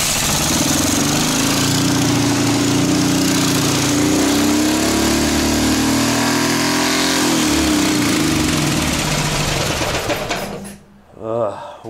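A Ural (Dnepr) motorcycle engine, freshly fitted with a new carburetor, runs loud and close with a rough, throbbing beat and shifting revs for about ten seconds, then sputters and dies near the end.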